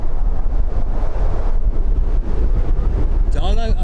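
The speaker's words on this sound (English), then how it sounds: "There was a decent gust of wind as that touched down, as you can tell by the way I'm being blown about myself." Gusty wind buffets the microphone outdoors at Birmingham Airport, a loud, continuous low rumble with surging gusts throughout, as a turboprop airliner touches down nearby.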